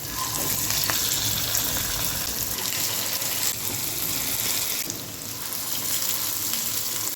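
Kara appam batter sizzles in hot oil in the wells of an appam pan, a steady close crackling hiss that carries on unbroken with no voices.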